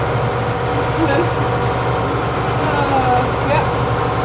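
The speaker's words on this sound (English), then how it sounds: "his and her tractors." Tractor engines run steadily in a hay field during haying, a continuous low mechanical drone with a few faint higher squeaks over the top.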